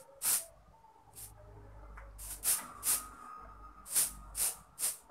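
Hair spray is sprayed in a series of short, sharp aerosol bursts at close range, about eight of them at irregular intervals, before hair straightening, with faint handling noise between bursts.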